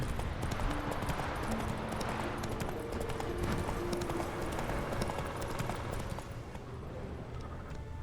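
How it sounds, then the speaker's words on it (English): Roach, a horse in The Witcher 3 video game, gallops with steady clip-clopping hooves over a dense rumbling game soundscape, continuous and fairly loud with no talk. "Run, Roach."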